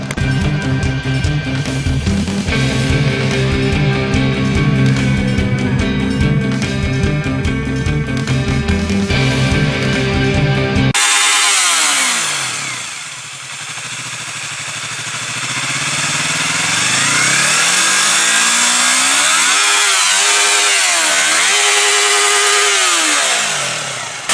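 A Yamaha YZF R3 motorcycle engine idles in a dense buzzing drone at first, then revs hard toward redline in rising and falling sweeps, loud and close with no voices.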